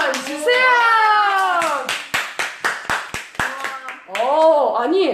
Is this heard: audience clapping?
yes